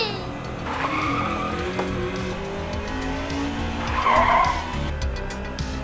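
Car tires skidding and squealing in the Forza racing video game, with engine noise throughout and two distinct screeches, the second louder near the end, with a voice faintly present.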